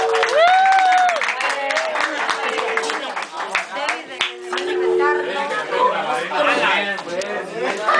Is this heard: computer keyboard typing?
no